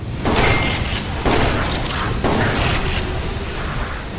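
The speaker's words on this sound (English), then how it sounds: "Alistair, the room's kind of exploding." Repeated heavy booms from explosions in Ratchet and Clank Future: A Crack In Time, three loud blasts about a second apart, each followed by a rumbling, crackling tail during a boss fight.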